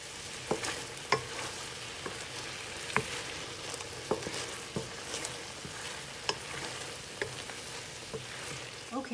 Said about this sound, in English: just coat the eggplant with the sauce and then just let it boil and simmer